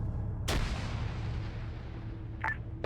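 A weapon shot in the military game Arma 3 strikes a vehicle with one sharp, heavy crack that trails into a long rumble over a steady low background. A fainter, brief second report follows.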